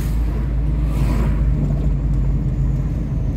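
Porsche Carrera GTS engine running nearby with a steady deep low rumble throughout, loud and continuous with no clear rev spikes, heard from an adjacent car on the road.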